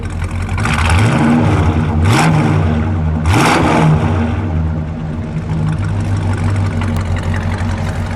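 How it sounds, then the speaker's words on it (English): A 1968 Chrysler 300 two-door with a 440 V8 idling with a deep, loud rumble, then revved twice in quick succession before settling back to a steady idle. "Go ahead, give it a rev."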